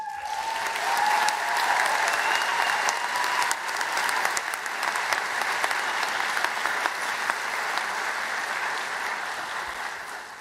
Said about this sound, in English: let's give another round of applause to the graduates